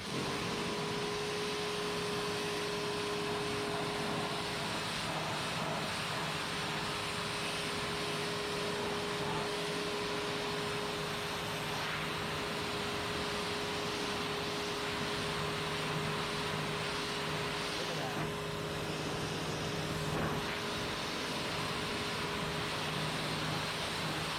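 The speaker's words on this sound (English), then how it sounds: "I'm going to go ahead and finish power washing this" Steady, faint power-washer hiss and motor hum while cleaning a heavily dirty fuel tank from an '03 Ram 2500 Cummins, continuous and unbroken with no talking.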